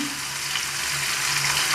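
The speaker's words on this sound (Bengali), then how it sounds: "প্রথমে আমগুলো অল্প করে একটু হলুদ দিয়ে দিলাম" Mango pieces sizzle in a pan with a little turmeric, a steady soft frying hiss with a faint low hum beneath, continuous and close without any talking.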